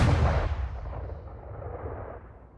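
A heavy boom from HMS Victory's cannons at the Battle of Trafalgar, a loud low blast at the start that fades into a long rumbling decay with no voices.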